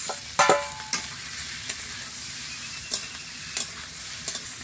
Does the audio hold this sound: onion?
yes